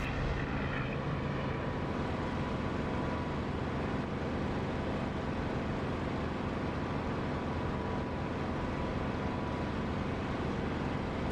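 Propeller fighter plane engine in a combat flight simulator game, set to 2700 RPM, droning in a steady, dense roar with no talk over it.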